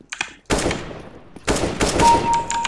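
Rapid bursts of automatic gunfire in the video game CS:GO, loud and close, coming in two dense volleys separated by a short pause, with a brief tone near the end.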